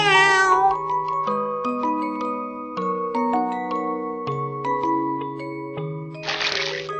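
A cat gives one short, clear meow at the very start, followed by light chiming musical notes and a brief hiss near the end.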